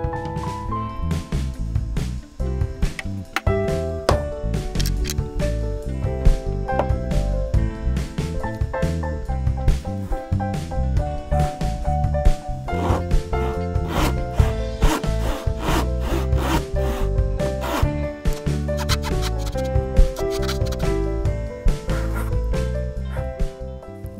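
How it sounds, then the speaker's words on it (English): A hand saw cross cutting wood for a mitered half lap joint, a steady, continuous rasping stroke rhythm that stays close and loud throughout with no talking. "So what I'll do is start by making a knife wall and then cross cut down here."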